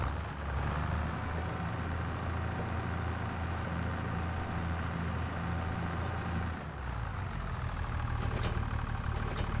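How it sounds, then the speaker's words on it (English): A modded tractor engine idles in Farming Simulator 25 with a steady, loud, low rumbling drone that runs the whole time, dipping briefly near the end before settling back. "this mod, a tractor sounds really good"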